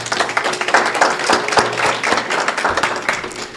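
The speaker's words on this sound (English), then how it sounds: "Give them another round of applause." A church congregation at a Sunday celebration service applauds, steady clapping from many hands filling the room, fairly loud and continuous without speech.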